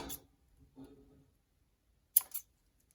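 Scissors cut material for a custom mask, a few sharp close snips in a quiet room, one soft early cut and a crisp double snap near the end.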